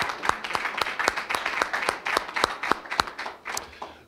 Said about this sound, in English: would you give them another round of applause, please?